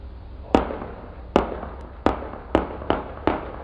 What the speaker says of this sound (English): This is the sound of gunshots being fired in Hanover Park